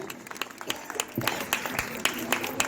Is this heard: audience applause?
yes